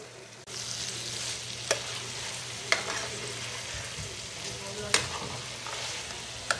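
Beef noodles fry steadily in a hot pan as tomato sauce is added and stirred, giving a constant close sizzle broken by a few sharp utensil clanks against the pan.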